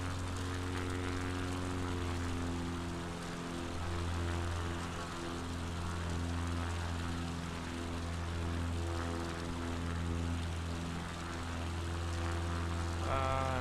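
A propeller airplane in Microsoft Flight Simulator 2020 holds a steady, buzzing engine drone with strong harmonic tones that swell and dip gently, and a brief rising whine near the end.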